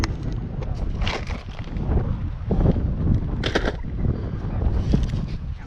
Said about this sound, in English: It's a little bit breezy today